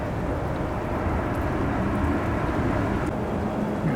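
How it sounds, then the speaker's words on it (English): Heavy rain pours steadily with gusting wind at San Francisco International Airport during a storm, a dense, constant roar of falling water close by with no voices. "I'm a little out of the wind and rain here."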